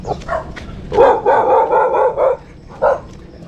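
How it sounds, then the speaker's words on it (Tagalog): A dog barks several times in quick succession near a residential area during a run, a short burst followed by a sustained run of barks, then one more bark after a pause; fairly close and loud. "May aso."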